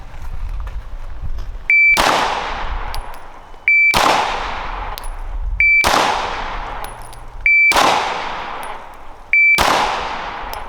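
Five sharp gunshots ring out one after another at roughly two-second intervals, each a loud crack with a short decaying tail, fired as a single five-round magazine at a shooting range.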